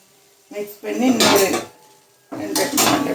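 Green chillies stirred into crab masala in a metal pot, two bursts of loud clattering scrapes from a spoon against the pot, close up, separated by a short quiet gap.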